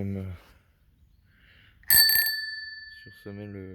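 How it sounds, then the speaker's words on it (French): A single bright ding of a Motobécane bicycle bell rings out and fades slowly, with someone speaking briefly before and after. "Une belle sonnette Motobécane aussi."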